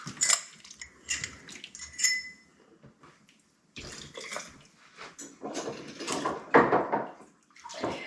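Split pea and ham soup is ladled into canning jars, with intermittent clinks of glass and metal and wet pouring splashes in uneven bursts, close and moderately loud, with a short quiet gap midway.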